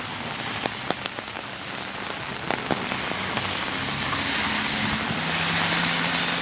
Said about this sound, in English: I have to get out of the rain now.